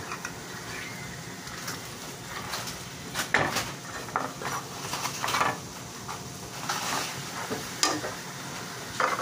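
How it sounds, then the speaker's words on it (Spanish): Tostadas fry in a pan, giving a steady sizzle interrupted by scraping and stirring sounds and light clatters of utensils against the pan, heard close up. "Estamos friendo aquí nuestras tostadas."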